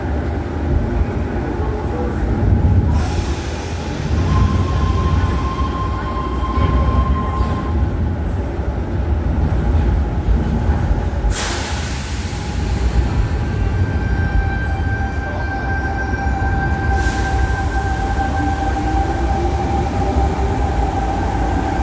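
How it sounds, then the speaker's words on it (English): Loud rumbling of a Sydney train running on rails, continuous and close, with occasional faint squeals and tonal whines over the roar. "Now we're going for our next train."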